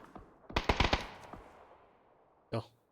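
A rapid burst of several sharp gunshots in PUBG, followed by a quieter tail and one more isolated shot near the end, with no talking.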